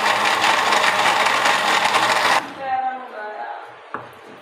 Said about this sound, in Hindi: इसे करेंगे हम ग्राइंड।